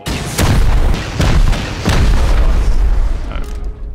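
Rocket explosions while raiding a base in the Rust video game, four heavy booms in quick succession, each a loud low blast trailing into rumble, with no talk.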